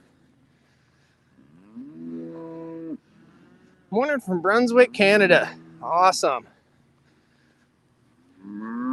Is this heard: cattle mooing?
yes